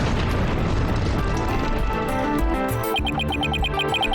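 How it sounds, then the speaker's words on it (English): Explosion in the Ace Attorney: Dual Destinies video game, a loud sustained booming blast with rumbling debris, followed by a repeating beeping tone as the roar fades. "2 explosive devices were detonated and launch was cancelled."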